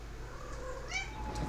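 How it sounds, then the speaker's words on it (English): A pet cat meows once or twice in a room, a short, fairly faint, drawn-out call over steady background noise with no talk. "Also, I have a cat"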